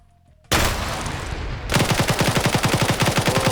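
A machine gun in a shooter game empties a full magazine in one loud, continuous burst of rapid, evenly spaced shots, preceded by a brief harsh noise and then steady rattling fire until the end.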